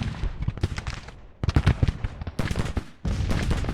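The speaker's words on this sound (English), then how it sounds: "Pelham's 12-pounder Blakely's are firing." Civil War battle sounds in Grand Tactician, where 12-pounder Blakely guns fire amid a dense crackle of gunfire and booms that overlap with little pause.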